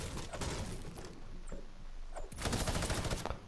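In the video game Fortnite, rapid gunfire rattles in bursts, with scattered shots early on and a denser, louder volley in the final second; no talking.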